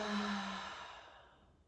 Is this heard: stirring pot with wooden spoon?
no